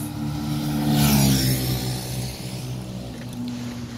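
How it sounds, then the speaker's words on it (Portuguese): Motor vehicles passing close beside a bike lane near the international airport in Porto Velho, heard as a steady engine roar that swells loud and near around the middle, then eases into a continuing traffic drone. "mas os automóveis passam pertinho"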